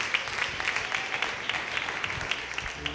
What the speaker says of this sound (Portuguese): As palmas podem glorificar o nome do Senhor.